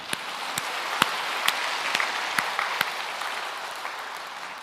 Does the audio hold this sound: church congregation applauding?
yes